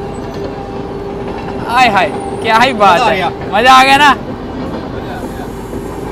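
Patna Tejas express train passing on a parallel track, heard from aboard another train, with loud rushing bursts and squealing wheels over steady rail noise while someone speaks excitedly throughout.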